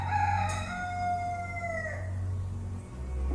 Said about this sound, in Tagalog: Tumitilaok na ang manok